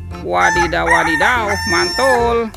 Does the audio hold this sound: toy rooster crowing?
yes